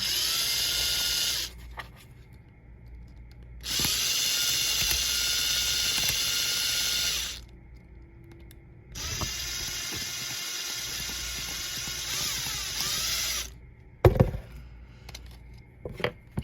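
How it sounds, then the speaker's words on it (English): A rotary tool grinds down a stripped screw, with long high-pitched whining passes broken by pauses and a sharp clatter near the end. "And I'm just going to grind it down a little bit more."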